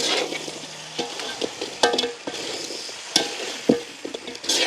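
Fried meat tipped into a pan and stirred over a village cooking fire, with steady sizzling broken by several sharp scraping clatters of the spoon against the pan; no talking.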